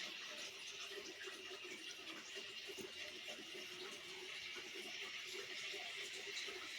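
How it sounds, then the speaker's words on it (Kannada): Water flowing constantly at a shrine in Bilagunji, Sagar taluk, Shivamogga district, a faint steady trickling wash heard from a short distance, unbroken and without talk. "ಅಲ್ಲಿಂದ ನೀರು ಸದಾಕಾಲ ಈ ಕಡೆ ಬರ್ತಾ ಇರತ್ತೆ."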